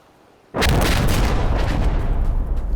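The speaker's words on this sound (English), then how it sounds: "Here's the enemy calling some airstrikes." Enemy airstrike explosions in the video game Insurgency Sandstorm hit with a sudden loud boom, and a heavy roaring rumble then sustains for several seconds.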